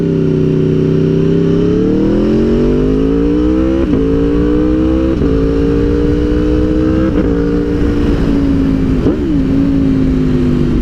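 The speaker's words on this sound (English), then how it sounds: "This bike here has a quick shifter. You don't have to let off the throttle, you don't have to use your clutch, you basically just shift up." A motorcycle fitted with a quick shifter accelerates hard, its engine note climbing and then dipping briefly at each of several quick upshifts, loud and close throughout.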